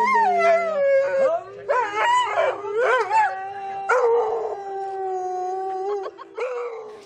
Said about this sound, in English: he performs a song with his dog